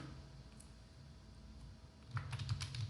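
Typing on a computer keyboard while entering a plugin search in the WordPress admin, faint at first, then a quick burst of clustered keystrokes near the end.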